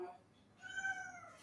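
A cat gives a single drawn-out meow, fairly close and clear, lasting about a second.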